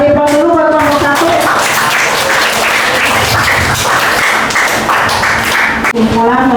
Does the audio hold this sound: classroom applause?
yes